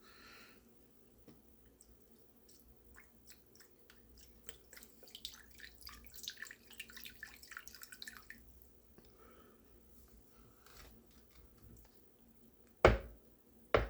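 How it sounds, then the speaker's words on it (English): Vegetable broth poured into a pan beside turkey wings gives faint, close trickling, dripping and wet splashing that builds mid-way, then fades. A sharp clatter of cookware comes near the end. "you go ahead and get your vegetable broth. What you want to do is pour it on the side."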